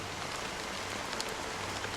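Steady rain in Honkai: Star Rail, a dense, even hiss of falling drops with faint scattered patters, continuous and fairly close throughout, no voices.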